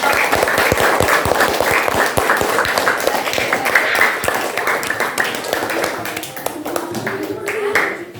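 A room full of people claps together in dense, sustained applause that gradually thins out, with some voices mixed in near the end.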